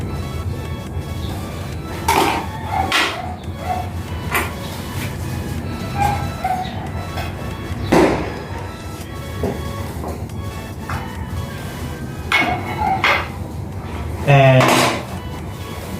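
Metal clanks, scrapes and sharp taps recur as a can of one-component paint is pried open, the sounds close and intermittent, with a dog barking once near the end.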